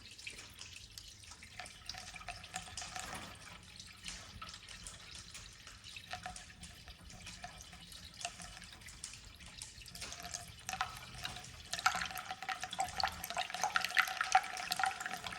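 Coolant glugging and trickling as it is poured into a V8-swapped 1986 Chevrolet S-10, faint liquid splashing and dripping close by, growing louder and more continuous toward the end.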